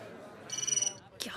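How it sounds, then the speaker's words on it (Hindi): A telephone rings inside a café in a movie scene, a short buzzy electronic trill heard close, followed by a brief burst of voice. "फोन क्यों नहीं उठा रहा?"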